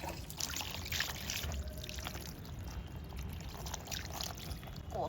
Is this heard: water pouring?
yes